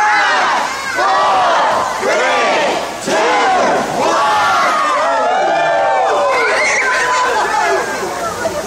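A large crowd at a Bass Pro Shop roars and shouts together in loud, sustained cheering, with overlapping yells rising and falling in waves.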